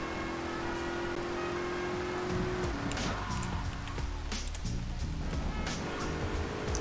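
Rain falling in the GTA video game, a continuous hissing patter that persists at moderate loudness beneath a held tone and other game sounds, with no talking.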